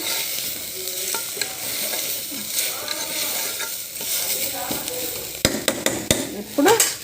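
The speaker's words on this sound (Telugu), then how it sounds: "మీడియం సైజ్ టమాటోలు వేసాము రెండు వేస్తున్నాను కొంచెం ఒక్క రౌండ్ ఇలా తిప్పాలండి" Tomatoes frying in a pan for gongura dal sizzle steadily while a utensil stirs them, with scraping and sharp metallic clinks growing busier near the end.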